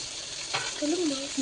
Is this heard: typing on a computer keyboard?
no